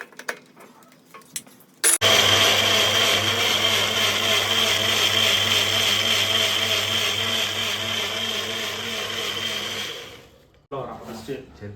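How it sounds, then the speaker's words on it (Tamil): A mixer grinder pulverizes ginger, garlic and small onions, starting abruptly with a loud, steady whirring roar that runs for about eight seconds before winding down. Brief clicks and handling noises come just before and after. "இஞ்சி பூண்டு சின்ன வெங்காயம் மூணையும் போட்டு இப்போ அரைக்க போகிறோம் வாங்க அரைச்சிடலாம்"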